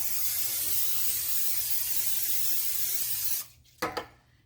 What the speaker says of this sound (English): So we're going to start off by spraying our griddle.